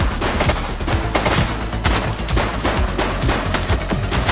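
A shooter in The Precinct police game fires a rapid, continuous volley of gunshots, loud and close throughout, with no talking.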